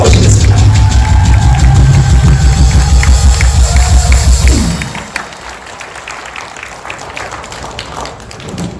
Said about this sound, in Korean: 큰 박수로 모시겠습니다